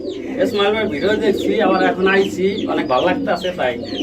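Pouter pigeons on a pigeon farm coo in close, throaty bursts, heard under someone talking nearby.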